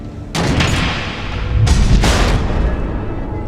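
Missiles exploding in the video game Batman: The Enemy Within, two loud booming blasts about a second apart, each rolling into a long rumbling tail.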